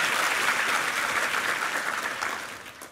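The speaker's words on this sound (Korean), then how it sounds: "우리 수고한 위정민 지휘자와 우리 이부 성가대 한번 힘찬 격려의 박수 부탁합니다." A church congregation gives a warm, dense round of applause for the choir and its conductor during a Sunday service, steady and full before tapering off slightly at the end.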